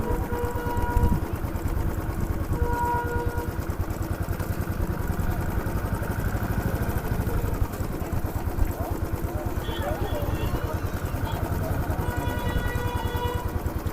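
A motorcycle engine drones with a steady, close, pulsing thrum throughout a ride near the Badrinath market, with voices talking over it and faint tonal whines drifting in the background.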